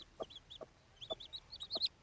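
An Indian hen hatching her chicks gives a series of short soft clucks in an uneven rhythm, with thin high cheeps from the chicks mixed in, close but quiet.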